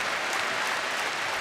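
A packed wrestling arena crowd at Clash at the Castle roars with dense, continuous applause, a loud, even wash of clapping with no break.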